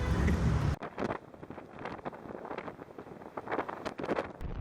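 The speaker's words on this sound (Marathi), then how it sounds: "असा वारा दोन्ही साईडने असा येते" Wind buffets the microphone in a heavy rumbling gust on a cold day near Lonavala, then keeps blowing in uneven, fluttering bursts.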